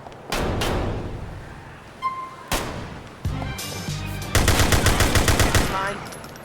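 Gunfire in the video game GTA IV, several separate shots and short bursts, then a loud rapid machine-gun burst near the end, close and sharp, with a faint voice in the background.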